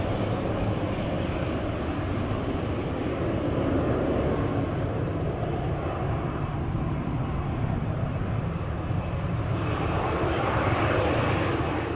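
An airliner at Orlando International Airport on a windy day, a loud, continuous engine roar filling the whole stretch with steady broadband rumble and no voices.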